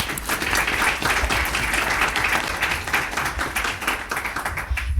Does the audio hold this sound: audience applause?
yes